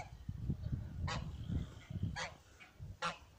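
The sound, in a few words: incubator-bred goose honking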